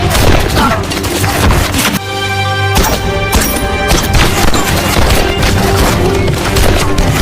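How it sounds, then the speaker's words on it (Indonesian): Dense, loud gunfire rattles through a shootout in an Indian action film, with overlapping shots and booms over a busy soundtrack and a brief sustained tonal break. "Dalam baku tembak tersebut, Saurab yang kehabisan peluru pun memutuskan untuk kabur melarikan diri."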